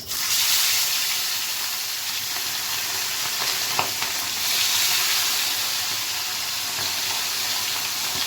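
Dry peas fry in a pan with a constant, close hissing sizzle, broken by a soft stir or clink near the middle.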